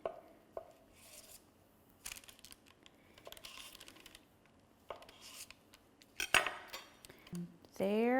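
A knife cuts a single serving from a tray of keto pumpkin bars with cream cheese frosting, bringing sparse scrapes and taps of utensil on pan. A sharper metallic clatter and a high ringing scrape come near the end.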